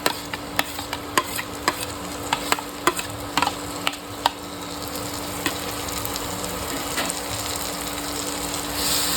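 Mashed eggplant being stirred into a hot masala for bharit, with a steady sizzle and a series of sharp spatula scrapes and clicks against the pan, loudest early and thinning out later, with no talk.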